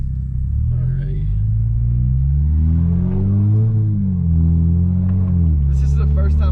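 Toyota Supra MK5 with a Tomei Type-R single-exit exhaust, driven outside sport mode in fifth gear, gives a deep, loud, continuous droning rumble that rises and falls gently with the throttle, with a voice briefly over it.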